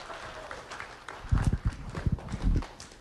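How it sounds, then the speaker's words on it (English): A crowd claps over several seconds, the clapping swelling and fading in bursts of varied intensity, heard without any voices on top. "Let's have a round of applause"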